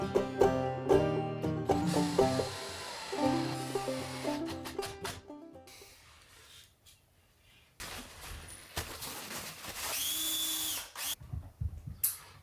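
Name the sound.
power drill pre-drilling joints in wooden 2x2s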